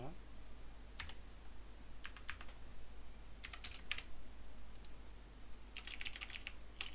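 Bursts of computer keyboard typing come in short clusters, apparently a password being entered, over a steady low hum, with faint speech-like background noise.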